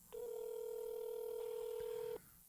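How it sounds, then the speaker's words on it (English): An unanswered call gives a single steady ringing tone on a telephone line that holds for about two seconds before cutting off, with no voice picking up. "There's nobody answering the phone."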